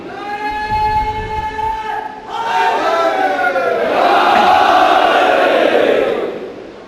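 A large audience at a Shia religious celebration in Lucknow roars a slogan in unison, loud massed voices rising in two surging waves of shouting and chanting that fill the hall.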